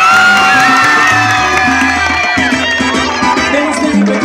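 A crowd cheers and whoops for baseball players at a homecoming celebration in their hometown of Pedro Brand, a loud, dense roar of voices with shouts rising above it throughout.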